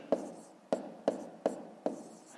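Five sharp, evenly spaced strokes of writing out a math calculation during a fifth-grade lesson, each stroke a crisp tap followed by a short scratch, close and clear with no talking.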